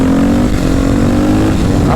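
A Suzuki RM-Z 250 motocross bike is ridden on a road on Réunion, its engine loud and close in a sustained droning buzz with no voices.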